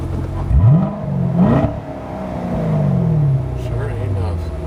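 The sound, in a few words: car exhaust revving in track mode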